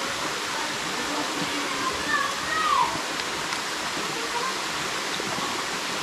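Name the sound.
waterfall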